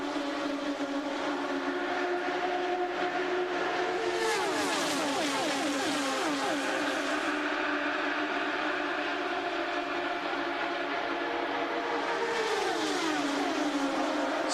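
IndyCar race cars scream past at about 215 mph on the 2005 Chicago oval, a continuous high-pitched engine roar with pitch sweeping downward as cars pass, loud and sustained without talk.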